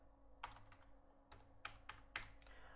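An amount is typed on a computer keyboard: a few quiet, separate key taps in an irregular rhythm, with two small clusters of presses close together in a quiet room.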